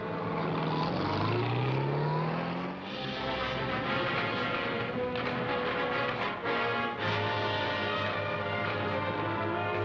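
A propeller airplane at an airport in a 1948 film, its engine droning steadily and loudly with a rising pitch early on, continuous throughout.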